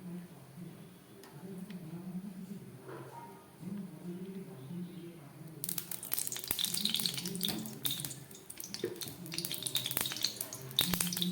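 Whole spices (phoron) hitting hot oil in a wok for a Bengali katla fish dish, a low hum giving way to a sudden bright crackling sizzle that stays loud and busy to the end.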